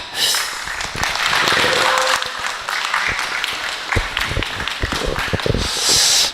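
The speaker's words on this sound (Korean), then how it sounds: "여러분 큰 박수로 청해 듣겠습니다" An audience at an emergency press conference and national declaration about an August 15 rally applauds for a pastor, a sustained crowd of clapping hands at close range with scattered sharper claps standing out.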